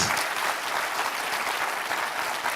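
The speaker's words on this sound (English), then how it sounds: "Give them a big round of applause." Audience applause at an academic opening ceremony, a brief, dense and continuous round of clapping from a crowd, steady in level throughout.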